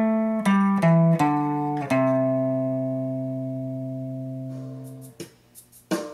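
Electric guitar runs quickly through a solo phrase: a few fast hammered notes lead into one long ringing note, then brief plucks close the passage, with no talking.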